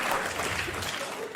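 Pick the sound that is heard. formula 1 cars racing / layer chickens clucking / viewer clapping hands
viewer clapping hands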